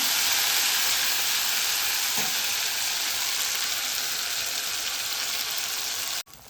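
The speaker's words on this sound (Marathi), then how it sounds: "हे वाटण आहे ते एकदम बारीक करून घेतलेलं आहे गॅसचा फ्लेम स्लो करून परतून घेणार आहे" A finely ground spice paste sautés in a pan over a low gas flame, giving a loud, steady frying hiss that runs unbroken and then cuts off abruptly near the end.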